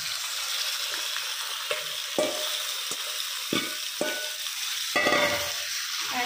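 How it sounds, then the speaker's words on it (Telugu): Prawns fry in hot oil with onions that have already browned, and a spoon stirs them. A steady, close sizzle is broken by regular scraping strokes against the pan, with no voices. "ఇలా ఆయిల్లో వేసిన తర్వాత బాగా మిక్స్ చేసుకోవాలి."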